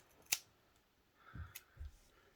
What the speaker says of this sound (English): And then snip it off.